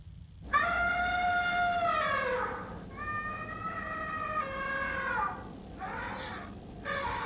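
Elephant trumpeting played as a sound effect in a story reading: long, loud, wavering cries that rise and fall in pitch, three or four calls in succession without speech.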